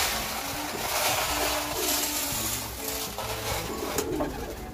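About 400 racing pigeons coo in low, repeated murmurs over a steady wash of outdoor noise, the calls overlapping in a continuous flock chorus.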